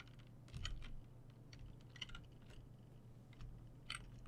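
Computer keyboard keys clack in short irregular bursts, faint and close, with a few louder presses standing out against a low background hum and no talking.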